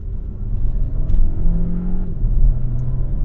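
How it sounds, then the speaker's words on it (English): A 2024 Dodge Hornet R/T Track Pack engine revs up to near redline, its pitch rising and falling in a steady growl, close and fairly loud with no talking. "it's just revving that engine out to almost red line"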